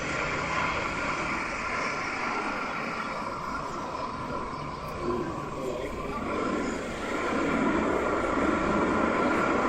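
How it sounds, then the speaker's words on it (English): A Boeing 737 lands in strong winds and turns unstable, almost striking a wing, with a steady jet engine roar and rushing wind holding loud and unbroken throughout. "This Boeing 737 was landing in strong winds when the plane became unstable"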